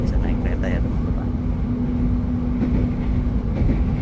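Executive-class passenger train running on rails, a steady low rumble and hum with faint rhythmic rattling throughout, heard from inside the carriage while a person talks over it.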